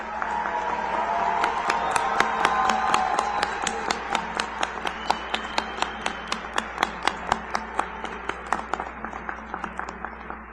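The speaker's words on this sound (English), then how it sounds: "Let's give our candidates a round of applause." A crowd applauds graduation candidates at a spring commencement ceremony, a dense wash of clapping that thins over ten seconds into scattered, distinct individual claps near the end.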